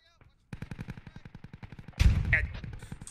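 Automatic rifle fire and grenade blasts in the tactical shooter game Squad: a rapid run of evenly spaced shots, then a loud, heavy explosion burst about two seconds in, with continued firing afterward.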